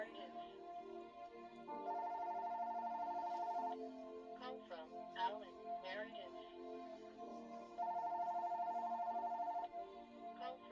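A telephone ringtone plays in two steady ringing bursts separated by a pause, fairly quiet, with faint background sounds between the rings.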